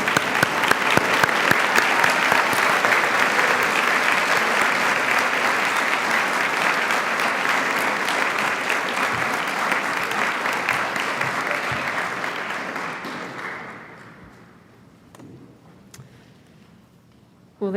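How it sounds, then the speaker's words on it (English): Loud, sustained audience applause fills a white coat ceremony for a medical class, a dense roar of clapping lasting about fourteen seconds before fading to scattered claps and quiet. "A round of applause for everyone,"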